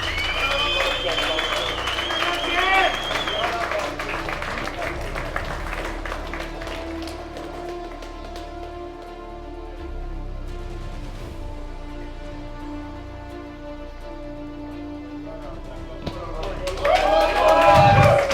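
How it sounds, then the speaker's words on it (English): A crowd at a strongman-versus-armwrestler battleground arm wrestling event applauds the winner, a steady wash of clapping and cheering running the length of the clip with voices mixed in and a louder burst near the end. "massive round of applause for your battleground winner, James Beech"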